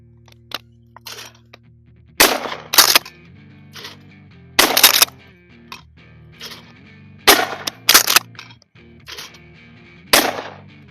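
Browning BPS 10 gauge pump shotgun firing short shells outdoors, several loud booming shots spaced a couple of seconds apart, each with a sharp crack and brief echoing tail, with mechanical clicks of the action between.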